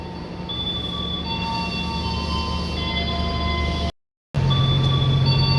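Rumbling noise of the Parahyangan passenger train at Bandung station with steady mechanical hum and high tonal whines, briefly cut out before a lower drone resumes.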